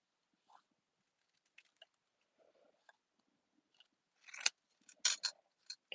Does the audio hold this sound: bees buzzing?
no